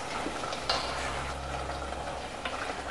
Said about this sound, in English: here we are cooking the tomatoes